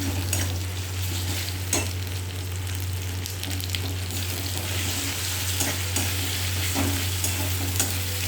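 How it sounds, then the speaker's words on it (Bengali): Garlic paste, ginger, dried chilli and cumin paste fry in a pan with a continuous, even sizzle and soft crackles, close up, with no talk. "এবারে এই যে রসুন বাটা আর হচ্ছে আদা, শুকনো লঙ্কা, জিরা বাটা দিয়ে দিয়েছি"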